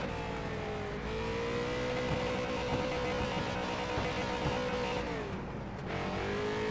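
In the iRacing game, a race car's engine drones and revs steadily during a victory burnout, holding a sustained hum with pitch dips and rises.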